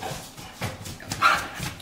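Young dog at an Arctic cabin in Svalbard making short yips and whimpers in the morning, close by and moderately loud, with a few brief bursts of sound between them.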